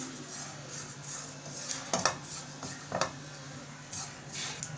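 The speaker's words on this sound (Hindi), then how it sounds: "इसको भी हम लगातार चम्मच चला के हिलाते रहेंगे।" A spoon stirs grated coconut and sesame seeds roasting in a pan, making quiet scrapes and a few clinks against the metal over a steady background hiss.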